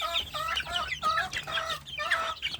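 Free-range village chickens cluck close by in a farmyard with young chicks, a run of repeated, chattering calls with short pauses between them.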